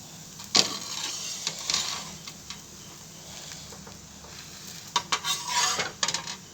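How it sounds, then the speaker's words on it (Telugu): Dosa batter sizzling on a well-heated pan, a steady low frying hiss with brief sharper crackles and scraping bursts scattered through, close and moderately loud with no talk. "పెంక బాగా వేడెక్కినాక వేస్తే మంచిగా వస్తుంది"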